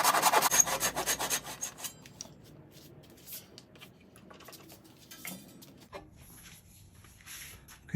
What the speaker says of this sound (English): then follow it through with the hacksaw with a double blade